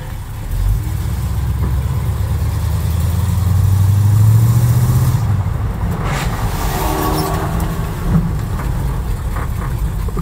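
A 1967 Ford Mustang engine idling smoothly, a steady close low rumble that swells slightly midway before easing, with faint outdoor background and no talk.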